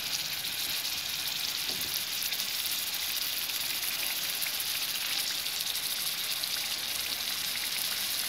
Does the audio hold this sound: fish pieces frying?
yes